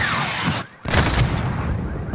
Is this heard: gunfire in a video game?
yes